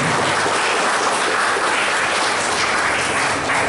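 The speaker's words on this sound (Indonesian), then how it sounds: "Oke, tepuk tangan untuk Bapak Hanafi atas pertanyaannya." An audience at an Islamic Maulid gathering applauds a questioner in a steady, loud wash of clapping that fills the room without a break.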